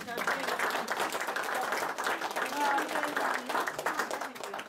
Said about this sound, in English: Let's give them a clap